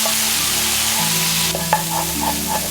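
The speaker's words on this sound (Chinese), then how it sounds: "再加入稍多点食用油，开始炒蒜泥儿，全程要保持小火，防止蒜泥炒糊" Minced garlic stir-fried in a generous splash of cooking oil over low heat, a soft continuous sizzle with a spatula scrape near the end, no voices.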